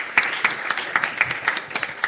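Light applause from a small audience at a science talk, scattered claps forming an uneven patter that stays fairly soft throughout.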